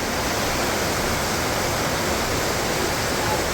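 Steady, broadband rush of a cloudy glacial creek near Whistler, its water carrying rock flour, flowing continuously and fairly loudly on its own with no breaks.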